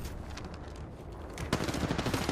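Rapid automatic gunfire in an Apex Legends firefight, a steady rattling stream that grows louder and denser partway through, with no talking.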